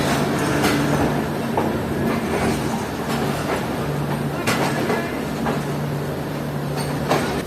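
A train takes a sharp curve as it leaves platform 2 at Lahore railway station, with a steady loud rumble, rhythmic wheel clicks and faint tonal squeal on the rails, in rain.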